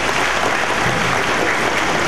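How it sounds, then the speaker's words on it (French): An audience at a graduation ceremony for Eagle International College claps loudly for a speaker, a thick, sustained roar of many hands that stays even from start to finish. "je vous demande d'applaudir encore"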